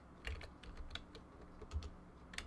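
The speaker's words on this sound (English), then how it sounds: "I'm just going to type in Math-O-Magic" Keys clatter on a computer keyboard as a game title is entered, a quick irregular run of close, crisp taps with small pauses.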